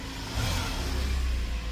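The Euro 5 diesel engine of a 2017 Hyundai Porter 2 double-cab one-ton truck revs loudly and steadily up close, a dense continuous roar with no voices.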